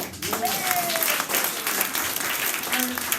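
An audience at a poetry reading and book signing applauds, a dense, continuous patter of clapping with some voices mixed in.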